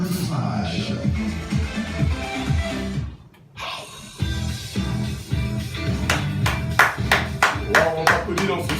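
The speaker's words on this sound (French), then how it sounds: "On t'applaudit dans ce studio, Benji, Buxou, voilà, en direct" Steady applause from the audience in a live Radio Côte d'Ivoire studio with scattered sharp claps, a brief lull in the middle, then more clapping mixed with voices.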